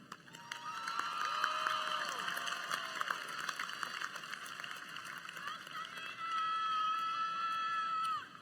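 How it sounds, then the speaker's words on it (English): A large audience applauds and cheers at a North Carolina Central University undergraduate commencement, a steady wash of clapping that swells louder near the end, with scattered whoops and voices mixed in. "Please join me in applauding them."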